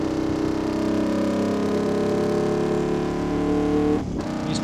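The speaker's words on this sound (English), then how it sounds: "Oh, listen to that engine note." A Ducati Desmosedici RR motorcycle fitted with a race exhaust revs loudly and continuously, its harsh engine note holding steady before a brief cut near the end.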